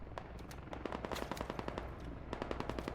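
Rapid bursts of machine gun fire from a helicopter door gunner in the video game Squad, loud sharp shots in quick clusters with a short pause midway.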